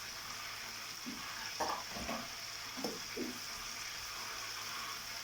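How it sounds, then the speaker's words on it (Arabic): A msemen filling of fat and greens with olives, stirred in a pot off the heat, giving a soft sizzling hiss with a few scraping and stirring strokes. "كنحرك فيها شويه بشويه"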